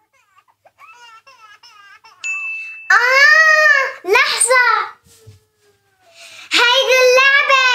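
A toy doll gives out repeated wailing cries like a baby, loud and close in a room, with children talking before and around it.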